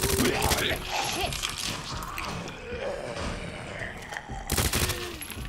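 Gunfire in Resident Evil 2 Remake comes in a rapid burst of loud, close shots over a dense, rumbling game soundscape, with a few sharp reports near the end.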